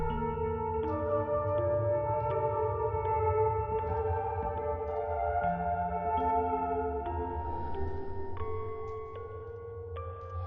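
In a Fatal Frame: Mask of the Lunar Eclipse scene, a piano melody played from a score rings out as sustained, overlapping notes in a slow line over a low background hum, with no speech.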